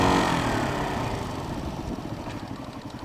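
Kawasaki KLR 250 dual-sport motorcycle engine idling steadily nearby, a low continuous mechanical rumble that stays fairly even and slowly eases slightly in level.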